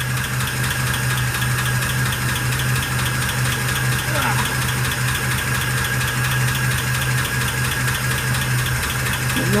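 The engine of a 1948 Pontiac Torpedo idles steadily just after start-up, a constant low rumbling hum with a slight knocking texture, loud and close throughout.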